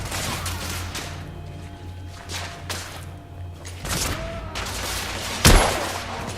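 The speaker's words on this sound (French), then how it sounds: "Je me fais canarder!" Gunfire in the video game The Order: 1886: bursts of shots and thumps over a low rumble, then one sharp, loud crack near the end.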